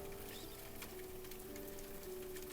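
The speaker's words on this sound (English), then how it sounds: "The rain tapping the windows like it knows." Soft, steady rain taps against windows, a faint continuous patter with no voices and no other sounds.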